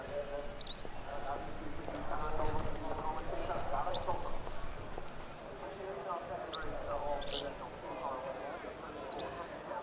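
Thoroughbred racehorse hooves clip-clopping as it walks down to the race start, a soft steady rhythm under continuous crowd and outdoor ambience, with faint higher calls scattered through.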